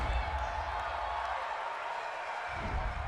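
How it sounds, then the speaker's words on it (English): Home football crowd in a stadium, Chicago Bears against Detroit Lions, roaring steadily after a referee's call, a dense, loud wash of cheering with a fresh swell near the end. "This home crowd, they're happy with that call."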